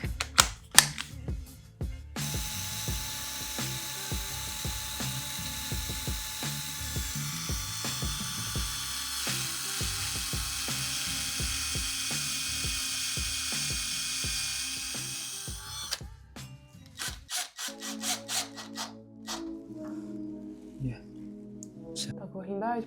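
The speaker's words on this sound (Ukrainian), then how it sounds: "Зараз просверлю всі отвори і позакручую." A power drill bores holes and drives screws while fitting out a new room, whirring in long steady runs with short bursts near the end, close and loud, with occasional voices.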